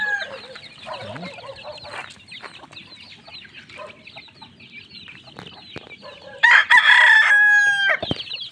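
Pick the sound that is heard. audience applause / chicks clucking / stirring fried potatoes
chicks clucking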